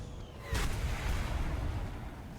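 A Maverick missile launch from a JAS 39 Gripen in War Thunder comes through as a loud whooshing blast after a brief engine hum, then a sustained roaring rumble that slowly fades, with no voices.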